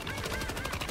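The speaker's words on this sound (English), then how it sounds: "It's a machine gun, bro." Machine gun fire in the video game Helldivers 2, a dense, continuous burst of rapid shots lasting the whole second, loud and close.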